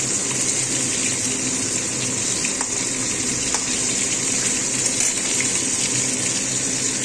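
Tap water gushes steadily into a sink while rohu fish pieces are rinsed clean, a broad continuous hiss with small splashes, near and alone.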